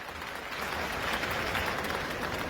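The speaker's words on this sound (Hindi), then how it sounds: "जोरदार ताली बजा के स्वागत करिए।" A political rally crowd at Talkatora Stadium in New Delhi applauds to welcome an MLA, sustained dense clapping at an even level throughout, with no voices rising above it.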